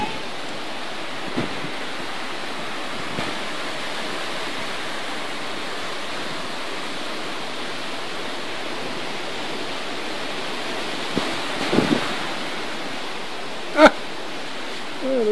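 A small stream runs in a steady, broadband rush near a dam in Robertson, South Africa. The flow stays even throughout, with a few faint knocks and a sharp tap near the end.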